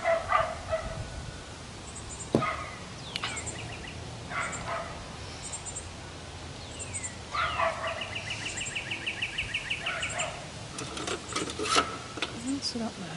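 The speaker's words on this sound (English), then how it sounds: "That's a different neighbor's dog." A neighbor's dog barks in short bursts at a distance, outdoors behind a house, with scattered yaps spread across the clip over quiet background hiss.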